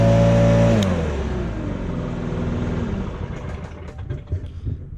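A Stihl BR800 backpack leaf blower engine revs high, then drops and winds down into a lower idle that sputters and fades.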